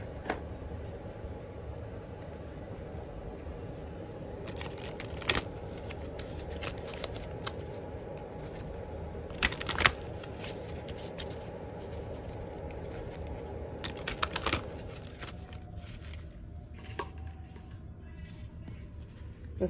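Oracle cards are shuffled for a tarot-style reading, giving a steady papery riffling and sliding with a few sharper snaps of the deck, close and moderately quiet over a low background hum.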